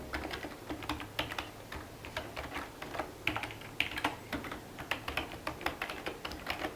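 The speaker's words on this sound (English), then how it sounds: "This is how loud the keyboard sounds." Someone types steadily on a Logitech MK540 keyboard, with rapid, fairly loud key clacks in an uneven rhythm, heard close and alone.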